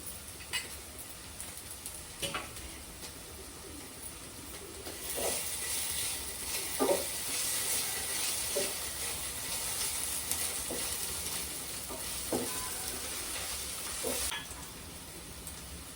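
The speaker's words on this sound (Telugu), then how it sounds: "ఉల్లిపాయలు కూడా కొంచెం వేద్దాం" Onions frying in oil for a fish curry, a continuous hissing sizzle over about sixteen seconds with scattered spatula knocks and stirring clicks against the pan, close and without talk.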